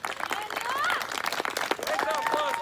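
An audience applauds a poet at a spoken-word variety show, with scattered clapping mixed with whoops and voices from the crowd, moderately loud and steady across the moment.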